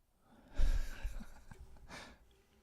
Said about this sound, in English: Can you hear my dog breathing in the background?